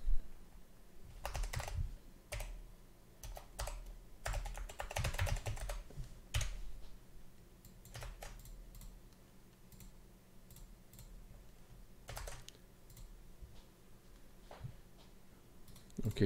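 Rapid typing on a computer keyboard while setting up text in After Effects, with bursts of clustered key clicks separated by short pauses, close and fairly quiet over a low steady hum.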